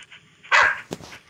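A single short dog bark from a video game, clear and close, followed by a faint yip, with quiet background otherwise.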